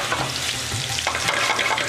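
Alcohol reducing in a hot pan, giving a continuous, close sizzle and crackle at an even, busy level with no talking.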